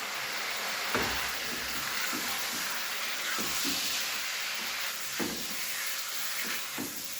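Chicken, about a kilogram, frying in a pan for a winter chicken curry, with a steady close sizzle and hiss and scattered scraping knocks from stirring throughout.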